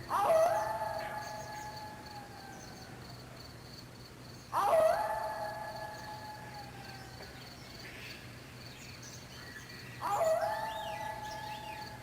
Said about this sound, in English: you might have heard the lonely howling of the coyote